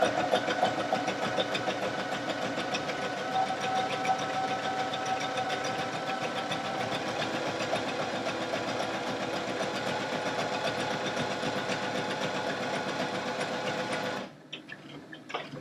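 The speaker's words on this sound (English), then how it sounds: "I'm just going to resume stitching." A Baby Lock Allegro sewing machine stitches a buttonhole with a steady, rapid mechanical whirr that runs evenly for about fourteen seconds before stopping abruptly, leaving a few faint clicks.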